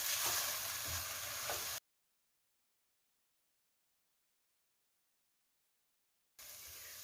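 Chopped onions frying in a pot with a spoonful of butter and tomato paste, a steady close sizzle that cuts out for several seconds and then returns.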